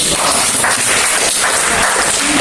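An audience claps together in a room at a presentation, a dense, loud wash of applause that holds steady without a break.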